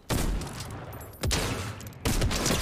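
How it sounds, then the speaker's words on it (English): Shotgun blasts in a video game: three loud, broad booming shots, each ringing out with a long decaying tail, spaced roughly a second apart. "I just killed somebody with a shotgun."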